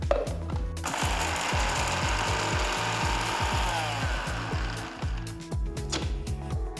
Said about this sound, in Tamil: ஆறுனதும் ஒரு மிக்சர் ஜாருக்கு மாற்றி நல்லா அரைச்சி எடுத்துக்கலாம்.